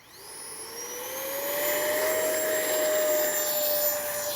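A Freewing Banshee RC jet with its takeoff flaps down throttles up for takeoff. Its fan whine climbs steadily in pitch and loudness into a sustained, close roar.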